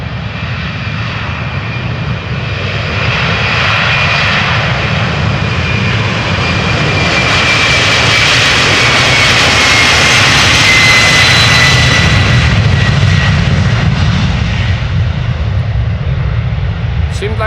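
Airliner jet engines at Amsterdam Schiphol Airport spool up for takeoff, a loud, steady broadband roar with a faint whine that builds gradually and holds across the whole stretch, with voices talking underneath.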